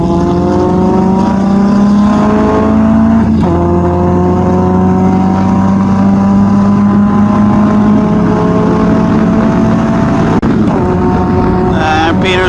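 Engine of a Caterham SuperSport race car on track at Sepang Circuit, a loud sustained drone with steady and slowly climbing pitch as the throttle opens, with wind rush and brief gear-change dips.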